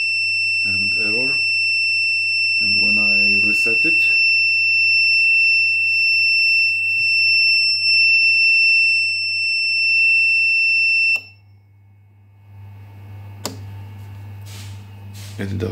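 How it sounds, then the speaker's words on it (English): Artillery Hornet 3D printer showing a MINTEMP E1 error sounds a steady high electronic tone for about eleven seconds, with someone speaking over it, then it stops and only low hum and clicks remain. "okay, there is such a strange beep"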